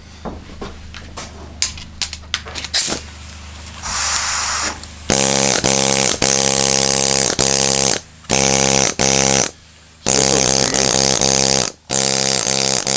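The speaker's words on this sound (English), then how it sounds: "let's try this one out, the air chisel" A pneumatic air chisel fires in loud bursts of steady buzzing hammering, starting and stopping repeatedly after a stretch of handling clatter and faint hiss.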